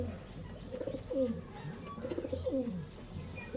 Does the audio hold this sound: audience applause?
no